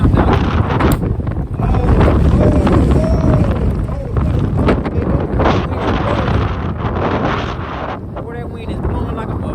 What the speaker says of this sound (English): that wind is blowing like a motherfucker